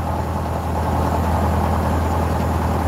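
A light aircraft's engine runs at high RPM during pre-flight power checks, a loud, close and unbroken droning roar with no pauses.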